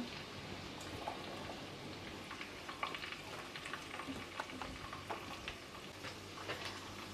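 Finely chopped onion sautéed in a pan for a dried-fish curry, giving a steady faint sizzle and crackle throughout with occasional light utensil scrapes and no speech.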